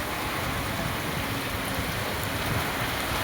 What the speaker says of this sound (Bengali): আমাদের এখান থেকে তো খুবই বৃষ্টি হচ্ছে।